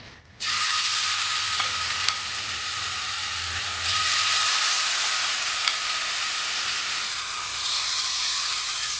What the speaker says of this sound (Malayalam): ഇനി നമുക്ക് ഇതൊക്കെ ഇതിലേക്ക് ഇട്ടിട്ടൊന്ന് ഫ്രൈ ചെയ്തെടുക്കാം.